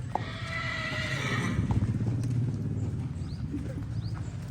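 A pregnant mare whinnies loudly at the start, followed by hooves clip-clopping and rustling nearby at an animal sale; no talking.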